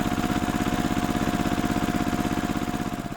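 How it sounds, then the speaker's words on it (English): A tractor engine chugs steadily nearby, a loud rhythmic idle with even, rapid pulses lasting a few seconds and no other sounds. "It's a tractor."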